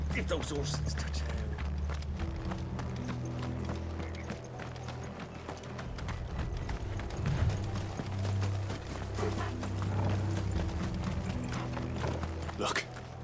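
Horse hooves clip-clop in a steady trotting rhythm in Final Fantasy XVI, the game's engine-like rumble and music layered underneath while voices talk over it throughout.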